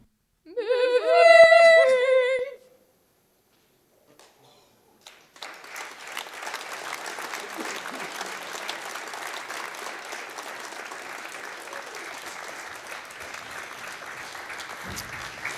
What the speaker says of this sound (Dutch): Hartelijk applaus voor Embodied Learning.